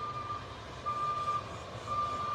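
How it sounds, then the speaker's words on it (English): A truck's steady reversing beeps repeat over a low engine rumble at a repair site for the flood-damaged Clinchfield rail bridge on the Nolichucky River after Hurricane Helene. "They've been sending trucks up and down to the bridge all day that's blown out over the river ahead"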